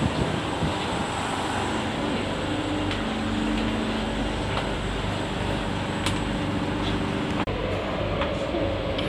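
A Singapore MRT train runs on its line, giving a loud, continuous rumble and roar with a steady hum and occasional clicks and knocks, heard from inside the moving carriage.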